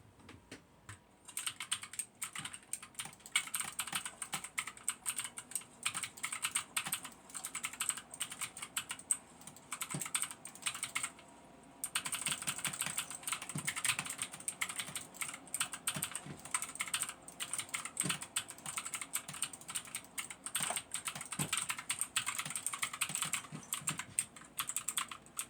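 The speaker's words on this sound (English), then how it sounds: "the clicky test, this keyboard sounds good" Continuous clicky typing on a Magic Refiner mk22 60% mechanical keyboard, rapid dense keystrokes for about 25 seconds with a short pause near the middle, close and clear.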